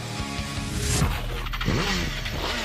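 Four Japanese superbikes racing, a Yamaha R1, Kawasaki ZX-10R, Honda Fireblade and Suzuki GSX-R1000, with engines revving and whining past in overlapping waves, rising and falling in pitch as they speed by, loud and close with no talking.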